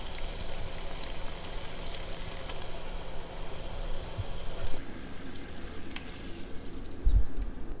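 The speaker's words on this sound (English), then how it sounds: "Move around the fries since it's been a little over a minute that they've been frying." French fries sizzle in hot oil, a dense, steady crackle close by that carries on evenly, with a faint clink of stirring near the end.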